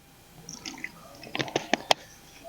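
Water poured into a jar for a beekeeping varroa mite test, heard close and quiet as soft splashing and trickling that builds into a few sharp, bright drips and plops near the end.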